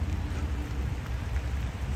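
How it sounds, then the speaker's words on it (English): Steady rain falling, a soft continuous patter with a low rumbling background, fairly quiet and unbroken. "Still raining."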